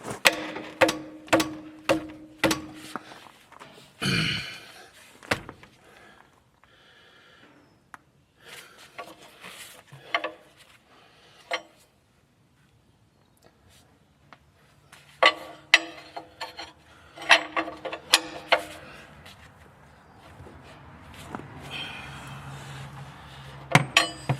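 A 1.25-inch wrench works on the oil pan drain plug of a tractor, producing scattered sharp metallic clinks and taps, some in quick bursts, close by with quiet gaps between.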